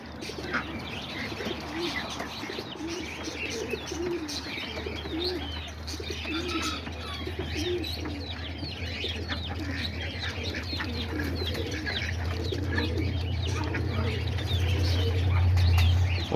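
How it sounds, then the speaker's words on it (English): Homing pigeons at their loft cooing continuously, many overlapping soft throaty coos along with scattered chirps and bird calls, close and busy, and a low steady hum underneath that grows louder toward the end. "there's the pigeons, all the homers"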